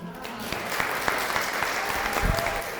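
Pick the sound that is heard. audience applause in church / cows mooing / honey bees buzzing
audience applause in church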